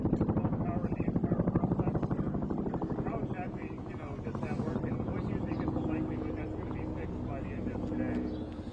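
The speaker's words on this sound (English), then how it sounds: "since the helicopter was kind of drowning it out" A helicopter's rotor thumps steadily and loudly throughout at an explosion site, its rhythmic beating dominating the scene while muffled voices talk underneath.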